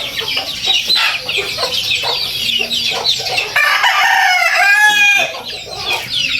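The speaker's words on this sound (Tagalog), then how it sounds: "Brahma chicken yan" Brahma chicken and native chickens at morning feeding on a farm, clucking in a steady close chorus with a drawn-out crow rising near the end, all loud and continuous.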